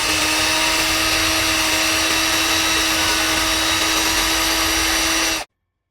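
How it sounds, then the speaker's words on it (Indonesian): Xenon cordless drill from a cordless grinder and drill set running steadily at speed 2, a continuous close, loud motor whine with a buzzing tone that holds evenly for over five seconds, then cuts off abruptly. "Kemudian kita coba ini speed 1 pada bornya berapa RPM? 350 RPM. Speed 2"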